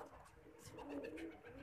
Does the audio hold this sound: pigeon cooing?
yes